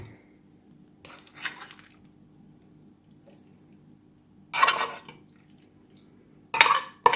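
Two short bursts of clinking and scraping as canned pork is spooned onto a plate, separated by quiet stretches with faint background hum.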